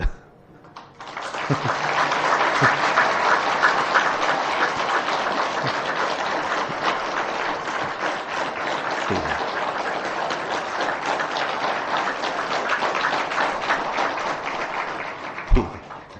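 A satsang audience gives sustained applause, a dense crowd of hands clapping together that swells quickly and holds steady for about fifteen seconds before cutting off.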